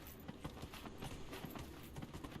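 A horse's hooves clip-clop in a steady, fairly quick rhythm in the fantasy video game Dragon Age: Inquisition, faint and close, with no voices.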